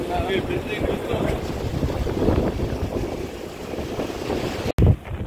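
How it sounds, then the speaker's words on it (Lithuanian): Steady wind blowing outdoors by the sea in Manila, a broad continuous rush with microphone buffeting, loud and close throughout with a brief dropout near the end. "šiaip dabar vėjota biški"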